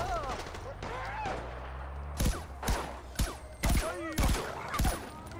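Gunfire from a gun in Far Cry 4, a series of loud sharp shots spaced roughly half a second apart that ring out over music and ambient game sound.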